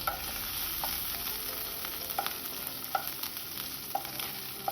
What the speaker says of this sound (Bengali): নাড়াচাড়া করে আমি ভেজে নেব আদা রসুনের সাথে।